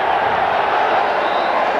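A big Juventus football stadium crowd, heard during a 2003 Champions World Series match, sends up a continuous loud wash of cheering and chanting, with commentary faintly beneath.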